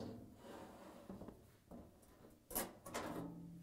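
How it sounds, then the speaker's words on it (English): A Frigidaire range storage drawer is pulled out, lifted and removed, giving soft sliding rubs and a few quiet wooden knocks and clunks, the loudest near the end. "Pull out, lift, and remove the storage drawer."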